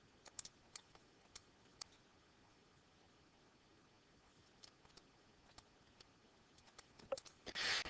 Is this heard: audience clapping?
no